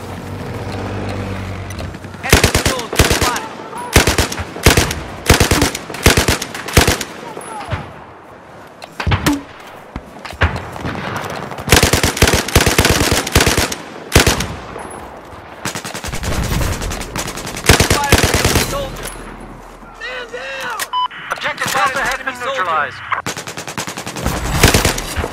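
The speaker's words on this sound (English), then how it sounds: "Enemy machine gun spotted." Machine gun fire in the shooter game Battlefield 4, loud rapid bursts repeating close by across the scene with brief pauses, mixed with other gunfire and occasional voices.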